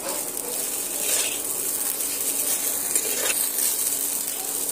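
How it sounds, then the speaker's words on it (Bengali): Sago pearls frying in ghee over medium heat while being stirred constantly, a close, steady sizzling hiss with faint swishing strokes and no talk. "এবার আমি এইভাবে অনবরত ঘিয়ের সাথে নেড়ে ছেড়ে সাগুগুলো একটু ভেজে নেব"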